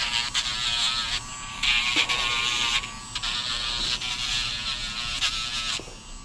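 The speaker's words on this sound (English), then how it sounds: "Now, this is the Andis cordless nail grinder." An Andis cordless nail grinder with a fine grit stone grinding a dog's nails, a steady high-pitched motor buzz that dips briefly several times as it touches the nail.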